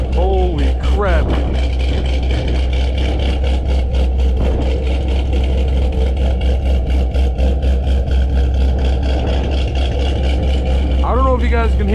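A loud cammed 5th-gen Camaro Z/28 V8 idles with a heavy, choppy, uneven lope, rumbling continuously up close, with brief voices audible over it.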